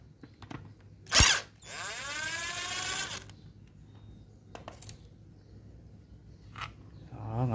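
An electric driver whirs for about two seconds while backing screws out of an original Makita angle grinder being restored. A sharp metallic click comes just before, and faint clicks and rattles follow.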